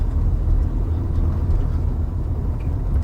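A car driving along a road during a driving lesson, heard as a steady low rumble of engine and road noise from inside the vehicle, even and unbroken, with no talking.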